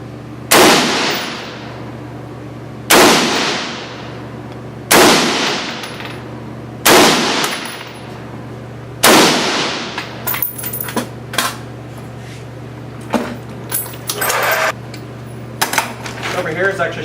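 Five sharp, loud rifle shots from an FN SCAR 16 fired at an outdoor range, spaced about two seconds apart, followed by clinking and handling noises.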